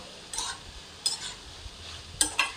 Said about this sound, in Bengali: এখন এটাকে ভালো করে একটু নাড়াচাড়া করবো